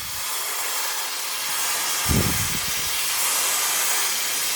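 An Oreck steam mop running at full power hisses steadily on kitchen tile grout as it slides back and forth, a close, continuous hiss with a brief low thump partway through.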